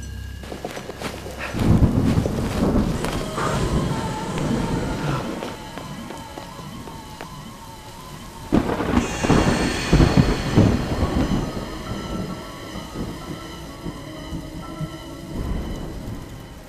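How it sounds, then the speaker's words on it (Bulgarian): Heavy rain pours steadily in a thunderstorm over Western Bulgaria while loud thunder cracks and rolls through twice, close and booming, with no voices. "Проливен дъжд и гръмотевични бури се разразиха над Западна България след обед."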